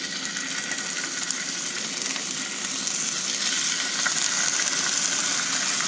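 Seasoned scallops searing in a fry pan of hot oil, a steady close hiss and crackle of sizzling that holds evenly throughout and grows slightly louder midway, with no talking.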